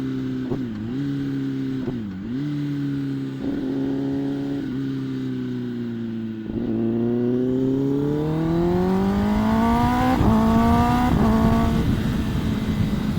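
Raspy exhaust of a Kawasaki Ninja ZX-10R motorcycle engine, steady near riding drone with a few brief throttle dips, then rising in pitch as it accelerates hard through the second half, loud and alone.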